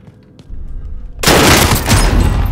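Shotgun blasts in Call of Duty Warzone, a sudden loud, broad roar of fire after a quieter lead-in, dense and close.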